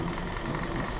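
A Van de Graaff generator's motor runs in a physics classroom demonstration, a steady close mechanical whir with a fast, even vibrating rattle and no talk.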